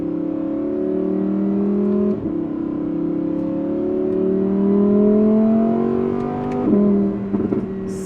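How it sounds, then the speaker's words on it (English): An Audi R8 5-liter V10 with a Valvetronic Designs titanium exhaust rumbles at low revs, a deep steady exhaust drone rising gradually in pitch through several gear shifts, loud and close. "Listen to the sound at the low RPMs. You get the 5-liter sound."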